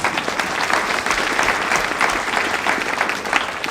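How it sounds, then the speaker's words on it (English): Sustained audience applause fills a school board of education meeting room, steady and dense throughout with no pauses, as a crowd claps together. "please, round of applause"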